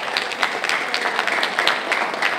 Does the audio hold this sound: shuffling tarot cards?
no